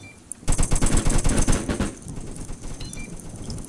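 Rapid automatic gunfire at a shooting range in Roblox Jailbreak, a loud burst of close shots that fades into scattered quieter rattles.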